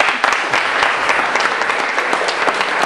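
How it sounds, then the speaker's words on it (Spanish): Audience clapping for a tango band at a Buenos Aires tango club, a dense, steady burst of applause from a full room, loud and close, with no voices over it. "Un fuerte aplauso."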